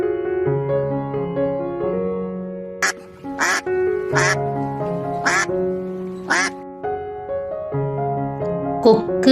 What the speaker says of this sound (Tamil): வாத்து